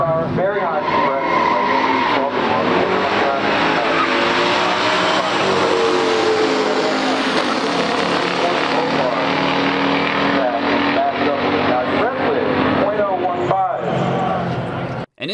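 Drag race between a 1969 COPO Camaro ZL1 with a high-compression 430-horsepower engine and a 1971 Duster 340 at a pure stock drag event: loud, continuous engine roar and tire noise filling the whole stretch, with a commentator talking over it.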